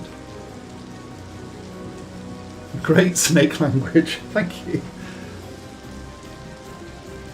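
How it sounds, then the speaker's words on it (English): A looped recording of steady rain forms an even hiss throughout, while a person talks briefly over it in the middle. "The rain sound is giving me chills. I've just put it on a loop."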